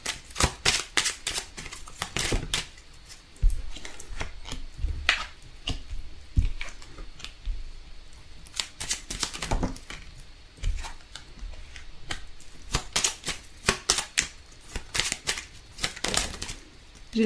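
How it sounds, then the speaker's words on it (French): A tarot deck is shuffled and cards are drawn, giving dense bursts of rapid papery riffling and flicking, close and fairly loud, repeating in short clusters with brief pauses. "on va retirer quelques cartes de celui-ci."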